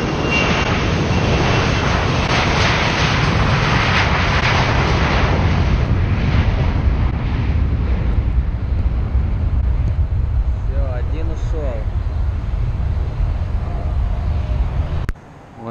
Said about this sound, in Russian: Наблюдаем, будут взлетать два частных этих самолета